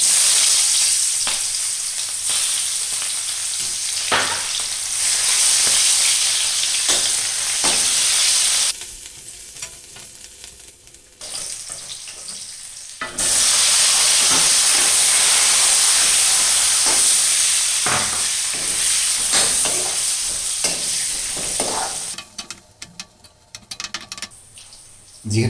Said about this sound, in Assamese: এতিয়া আমি প্ৰথমতে পিঁয়াজখিনি এড কৰি দিওঁ